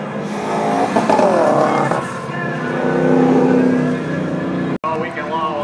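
A Chevy Malibu drag racing car launches off the start line at a drag strip event, its engine revving loudly with rising and shifting tones and some tire noise, while an announcer talks over it.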